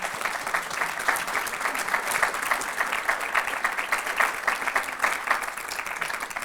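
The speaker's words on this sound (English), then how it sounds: "I just want everyone to give a round of applause to you." An audience at an event claps in sustained, dense applause that stays loud and even throughout, with no speech over it.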